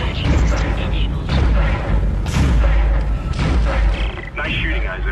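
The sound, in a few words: automated ship turret gunfire in the video game Dead Space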